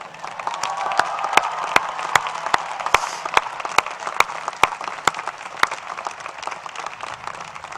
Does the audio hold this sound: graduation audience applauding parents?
yes